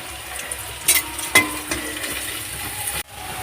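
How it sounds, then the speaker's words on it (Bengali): Onion and garlic frying and being stirred in oil in a pan for chicken kosha, a steady close sizzle with a few sharp clatters of the spoon against the pan, cutting off near the end. "পেঁয়াজটা দিয়ে দিচ্ছি দিয়ে দিয়ে এবারে নাড়তে থাকবো রসুনটা দিয়ে দিচ্ছি"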